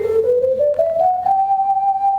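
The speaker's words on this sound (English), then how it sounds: "This is actually the ocarina there." An Italian-style ocarina gives a single sustained, whistle-like tone that slides gradually upward and then holds steady, played alone, clear and close.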